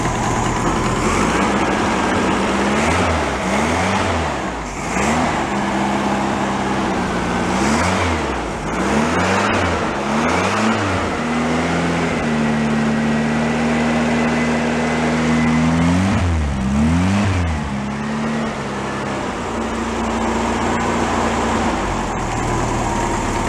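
A VW Bus engine runs with the choke on, revved up and down repeatedly in rising and falling sweeps between rougher running, loud and close.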